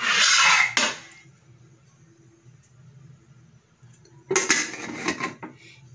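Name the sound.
pressure cooker lid being fastened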